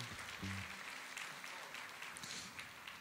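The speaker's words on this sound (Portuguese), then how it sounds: "Vamos aplaudir ao Senhor." A church congregation applauds, a dense wash of clapping hands heard at a modest level with a faint voice briefly underneath.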